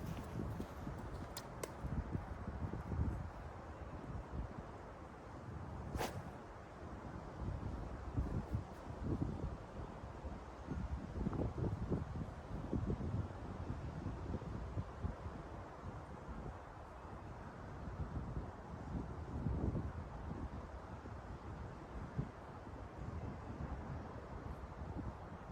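Steady gusting wind buffets the microphone on an open golf course fairway, a continuous low rumble with rustling swells and faint scattered background noises, no talking.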